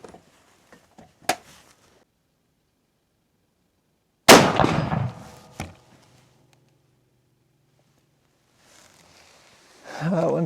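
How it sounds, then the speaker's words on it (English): Two loud, sharp 7mm Rem Mag rifle shots ring out about a second apart, each followed by a brief echoing decay, with light handling clicks before them and quiet talk at the end. "I'm just going to fire 2 out of this one."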